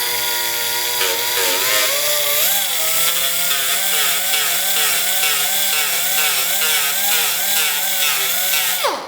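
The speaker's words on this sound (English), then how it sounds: "So I'm going to feather this out with the grinder quite a bit." A grinder feathers out a gouge in a plastic front bumper on a 2013 Toyota Tacoma, a loud, steady, close high whine with a wavering pitch as it bites the surface, alone and running throughout.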